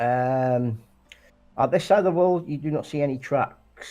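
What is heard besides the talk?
No everyday noise stands out behind the speech.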